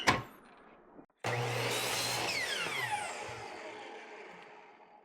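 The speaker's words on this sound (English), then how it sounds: "set my saw over to 45 degrees, and I'm going to cut this little piece off" A saw angled to 45 degrees cuts a small piece off a wooden board for a planter box: a short knock, a brief pause, then the blade spins up loudly, bites through the wood and winds down.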